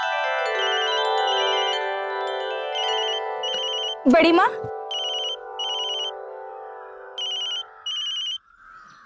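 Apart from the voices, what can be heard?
telephone ringtone, incoming call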